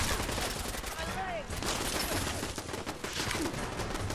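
Turret gunfire in Fallout 4: a dense, continuous rattle of rapid automatic shots, loud and unbroken throughout, with game noise and some talk mixed in.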